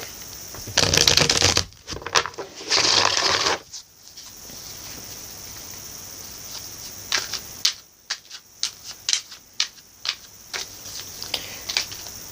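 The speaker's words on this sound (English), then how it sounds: "Shuffling off screen for a moment." Tarot cards are riffled and shuffled close by: two long dense bursts of flapping card noise, then a stretch of quiet followed by a run of separate taps and slides as the deck is handled.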